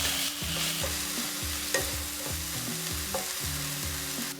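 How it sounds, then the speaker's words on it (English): Browned pork frying with spring onion and ginger in a hot pan, a continuous close sizzle with rhythmic stirring and scraping strokes throughout and an occasional spatula clink, no talking. "Once your pork is browned, add the spring onion and ginger. We'll just fry them a bit until they're fragrant."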